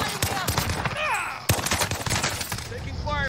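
Rapid bursts of gunfire in Call of Duty on Rebirth Island, several sharp loud shots scattered through the clip under excited talking from a player.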